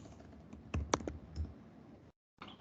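Quick bursts of typing on a computer keyboard while coding a web page, scattered clicks and a few sharper keystrokes, close and fairly quiet, ending in a brief silence before a last soft tap.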